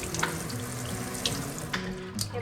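Cold tap water runs steadily into a kitchen sink while fish batter is prepared, a close continuous splashing hiss with faint clinks, no voices.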